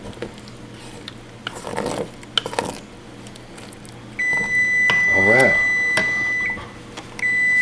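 An electronic kitchen timer beeps in a home kitchen while swamp rabbit gravy with rice cooks, a steady high tone sounding for a few seconds. Clatter and speech come before it.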